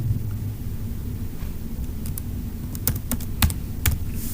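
Keystrokes on a computer keyboard while a last name is entered into an online form, a handful of crisp clicks in a loose burst over a constant low hum, no voices.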